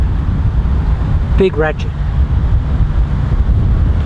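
Strong head wind of about 50 km/h buffets the microphone outdoors, a steady low roar filling the whole stretch, with a short spoken phrase near the middle.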